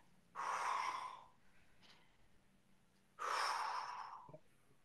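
Two long, forceful exhalations during a fitness class breathing exercise, close and alone, the first lasting about a second, then a pause and a second long breath out that trails off.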